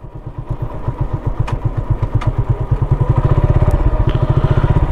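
Motorbike engine while riding on a road near Pirojpur, a loud, close, rhythmic thumping putter that grows stronger and steadier as it slows toward idle.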